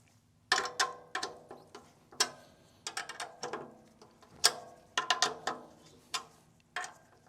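A drum key cranks the tension rods of a snare drum during head tuning, producing a series of close, crisp ratcheting clicks in irregular bursts, each followed by a short ring from the drum shell.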